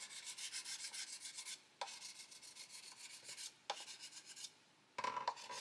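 Steady back-and-forth rasping of a sanding stick on a 1/72 plastic Vulcan model, soft and close, in rhythmic strokes with a few brief pauses and a small tap near the end.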